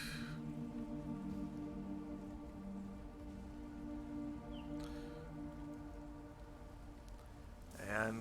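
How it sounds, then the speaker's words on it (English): Steady rain falls through a warm, wet green forest, a soft continuous patter beneath a sustained tonal drone, with a brighter splash of sound right at the end. "The rain continues on. The forest being warm and green and wet."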